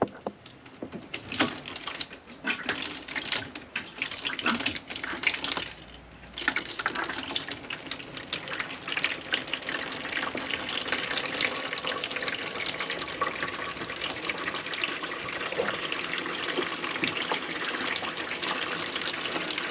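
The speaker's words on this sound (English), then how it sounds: "There's water going in." Water from a hose runs steadily into a tank fitted to a Toyota Prado, giving a continuous close gushing and splashing wash with small level shifts and no talking.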